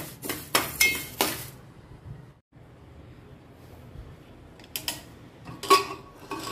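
Lentils (dal) dry-frying in a pan while a metal spoon stirs them, giving short bursts of scraping clinks at the start and again near the end, with a quiet low hum between and no talking.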